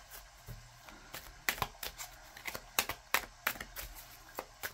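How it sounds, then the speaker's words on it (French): A Hedgewitch Botanical Oracle deck being shuffled by hand gives crisp, papery snaps and riffles in uneven bursts, close and fairly quiet. "Moi, je brasse vraiment de cette façon-là."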